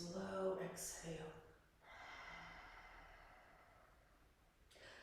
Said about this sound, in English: And then a slow exhale.